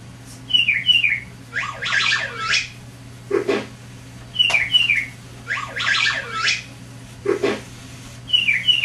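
Toy bird models from a Lego Education set play programmed chirps: repeated bursts of bright, descending tweets and warbling calls in two cycles, fairly loud and close over a steady low electronic hum, with no talking.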